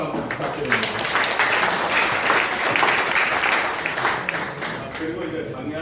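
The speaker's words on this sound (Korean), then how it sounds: "다시 한번 감사드리고 박수 한번 부탁드립니다." Applause from the audience at a Korean church-organization seminar, a dense, steady wash of clapping holding for several seconds at a fairly close, even level, with some voices mixed in.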